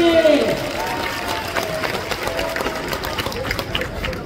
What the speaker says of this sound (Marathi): टाळ्या करा जरा दोन्ही पोरांसाठी